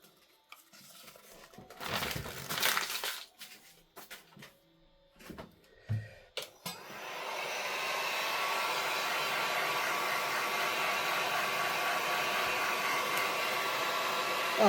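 Heat tool blowing steadily and loudly for several seconds to dry crackle paste, following a few brief handling knocks and rustles at the start.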